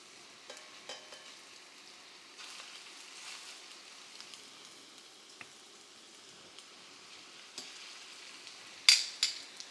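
Meatballs fry in hot oil in a pan, giving a steady, soft sizzle with scattered pops and crackles and one sharper spit near the end.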